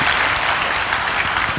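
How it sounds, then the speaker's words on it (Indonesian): Congregation at a church service applauding together, a steady, full wash of clapping throughout the brief moment with no voices standing out. "Berikan tepuk tangan kita untuk Tuhan kita."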